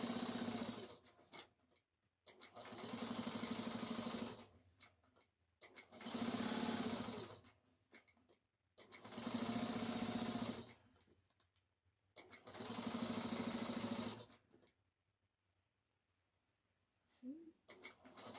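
A sewing machine stitching a bag runs in four steady bursts of several seconds each, a loud whirring mechanical buzz separated by short quiet pauses.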